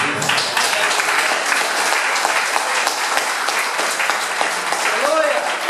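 Congregation clapping in a church service, a steady, full applause filling the room throughout, with a voice rising briefly near the end.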